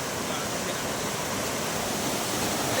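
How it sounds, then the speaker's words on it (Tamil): Fast-flowing river floodwater rushing in a steady, loud, broadband roar that stays constant throughout, close and unbroken, with no other clear sounds on top. "தண்ணியா நிறைய ஃபாஸ்ட்டாக போகுது"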